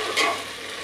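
Peas and grated ginger being stirred in a hot frying pan, a short close scraping sizzle that swells briefly and then settles, with no talking.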